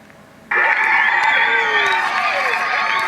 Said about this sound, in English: I don't know why they're cheering for that.